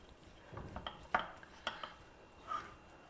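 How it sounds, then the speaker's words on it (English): Ghee being stirred into food in a pan, with a few scattered clinks and scrapes of a utensil against the cookware, fairly faint and close, with no talk. "Just adding half a teaspoon of ghee to this and mix everything well together."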